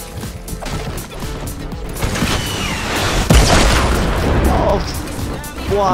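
Rocket launcher blasts in Fortnite, booming and crashing one after another amid continuous game noise, with a strong hit near the middle, while a player talks over the action.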